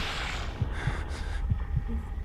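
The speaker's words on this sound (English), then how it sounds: "I hear the heartbeat Pete was talking about" Steady heartbeat from the horror video game The Evil Within, a low thudding double pulse repeating over a dark ambient hum, heard alone with no talking.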